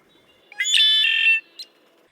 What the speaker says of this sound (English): And here is a classic conch-la-ree from a red-winged blackbird.